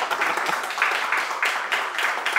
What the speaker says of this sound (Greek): Ένα χειροκρότημα έχουμε εδώ πέρα.